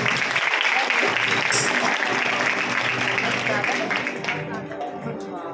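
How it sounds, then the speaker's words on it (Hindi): An audience gives loud, sustained applause for a monk-aspirant at a gathering, a dense wash of clapping that gradually thins toward the end. "ऐसे मुमुक्षु भाई के लिए एक बार जोरदार ताली।"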